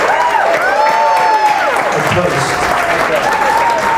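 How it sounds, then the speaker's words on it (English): Guests applaud at a wedding after a speech, loud sustained clapping from a crowded room with cheering voices, and someone speaks briefly over it. "Let's give Steve a big round of applause, everybody."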